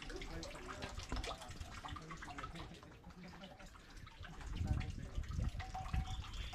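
Water runs from a rural village tap fed from a dam, a steady splashing flow with drips and a fuller gush near the end, heard close up under faint background noise.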